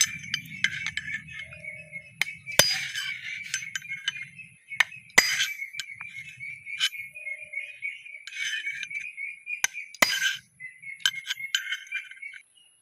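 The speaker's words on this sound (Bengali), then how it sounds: "এখানে এভাবে মানে আঘাত করে করে এই গর্তগুলো উঁচু করে করে দেবো" Metal hammer blows on an engine connecting rod piston pin bush during repair, a handful of sharp ringing strikes spaced through a workshop scene with faint clinks and a steady background hum.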